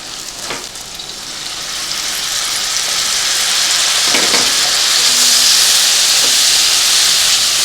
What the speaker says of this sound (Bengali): হলুদ আর লবণ। কষবো আর অল্প অল্প করে জল দেবো।